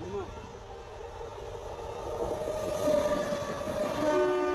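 A MEMU electric train runs by, a rolling rumble that swells slightly toward the end with tonal horn-like notes, heard at moderate level with a voice talking over it.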